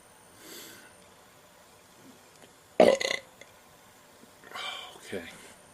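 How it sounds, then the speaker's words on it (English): A man burps loudly during a beer review of a Bellwoods Catherine Wheel Belgian IPA, a single strong belch in the middle of the clip, with softer breathy sounds before and after. "If I can get one last burp out, I'm going to do the chug."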